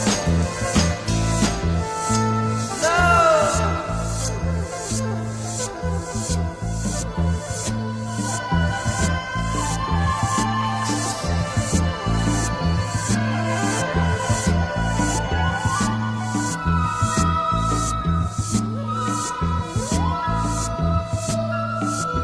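A song plays over WOR FM radio, a steady rhythmic beat with layered instruments and melody running continuously at moderate level, with no talking over it.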